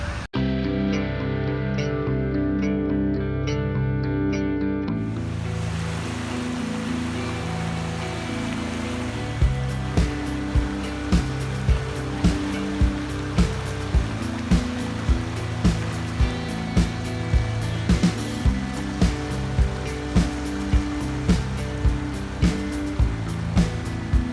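Water rushes steadily at Düden waterfall park in Antalya, a loud continuous roar of a flowing river mixed with a sustained musical drone and regular rhythmic beats from about ten seconds on.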